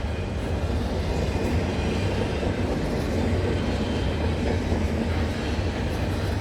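A CN freight train on the York Subdivision near Snider, Milepost 23, rolls past at night with a loud, steady rumble and rhythmic wheel clatter that stay constant throughout, with no talk.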